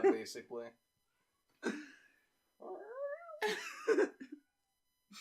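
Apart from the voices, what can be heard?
cats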